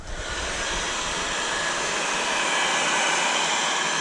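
Heat gun blowing hot air onto an aged touch screen layer of an Allen-Bradley 2711P-RDB7C panel, a steady loud whooshing roar that holds unbroken throughout, with no voices.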